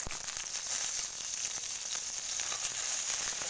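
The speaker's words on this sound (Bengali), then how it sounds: "ঢ্যাঁড়সগুলোকে একটু ভাজা ভাজা করবো" Okra frying in a pan after mustard and fenugreek seeds, giving a constant close crackling sizzle with faint stirring ticks, steady and unbroken.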